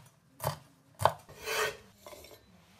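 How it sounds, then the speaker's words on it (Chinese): A knife cuts bird's eye chili into short pieces on a board for a home-style shredded radish and beef hotpot: four separate close, crisp cutting and scraping strokes, with one longer rasping stroke in the middle and no talk. "小米辣切小段"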